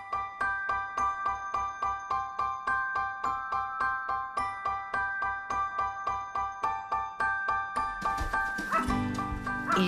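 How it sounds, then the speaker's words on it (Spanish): Nordic sled dogs at a kennel in Lapland, a rapid regular run of barks and yelps repeating evenly, then a louder burst of mixed barking and noise near the end. "La perrera está compuesta por distintas razas de perros nórdicos"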